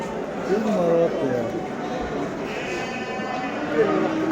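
Sheep bleat several times at a crowded livestock market in Göksun, Kahramanmaraş, with someone talking over the calls and general crowd murmur behind.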